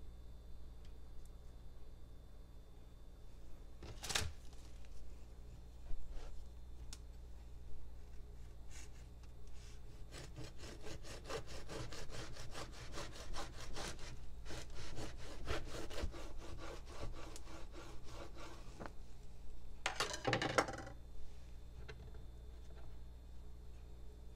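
A knife sawing through a Pop-Tart sandwich, heard as faint, rapid scraping strokes that cluster into a steady back-and-forth rasp in the middle, with a couple of louder crunches.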